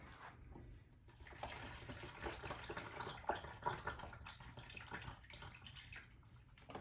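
Water is poured from a tap into a pan of seasoned turkey necks, a steady faint running and gurgling stream lasting several seconds with no talking.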